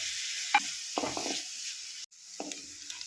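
Chopped onion and urad dal are briefly stirred in a pan, giving a few soft scraping strokes over a low, faint sizzle, with no voices.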